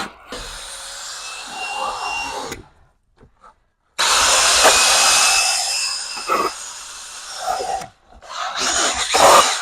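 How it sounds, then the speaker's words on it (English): A drill-mounted scrub brush whirs against a sprayed rubber car floor mat, running in loud bursts of a couple to several seconds with brief pauses between them. "We're going to take our drill brush and spray some on the drill brush."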